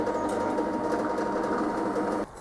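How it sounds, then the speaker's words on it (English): A drill boring pilot holes through a metal casting in a workshop, running as a steady, continuous machine whine for about two seconds before stopping abruptly. "I'll do pilot holes through these, then I'll drill through these and the casting."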